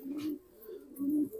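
A pigeon gives soft, low coos close by, two rounded throaty phrases separated by a short pause, over a faint background hiss.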